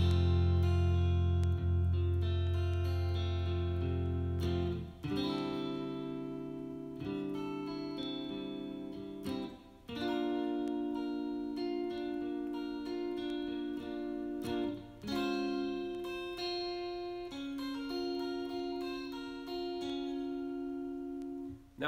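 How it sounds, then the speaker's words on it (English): Electric guitar playing the verse chords of a song, sustained chords changing roughly every two and a half seconds with soft strums, clean and close, with no voices. "So those first chords through the verse, they sound like this."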